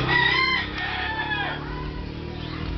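A rooster crows loudly and close in Davao, a full cock-a-doodle-doo with a drawn-out, wavering finish over faint background noise.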